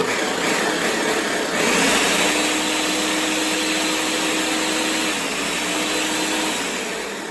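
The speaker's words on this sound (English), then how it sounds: "so I'm gonna just pulse it. There's a pulse button on it." A kitchen appliance pulses vegan banana nut bread ingredients with a loud, continuous motor whir. The steady whine shifts slightly partway through and then runs down toward the end.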